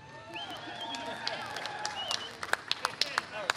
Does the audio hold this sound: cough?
no